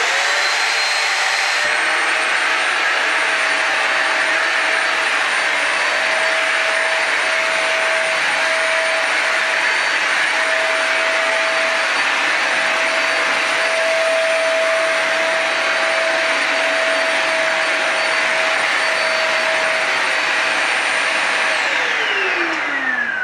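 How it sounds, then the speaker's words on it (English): A Bissell vacuum and steam cleaner motor starts up and runs as a loud, steady whine with a rushing hiss, then winds down at the end. "now I'm going to put the vacuum on as well"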